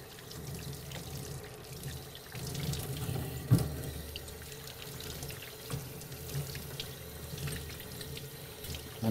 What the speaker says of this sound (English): just rinse off all your soap.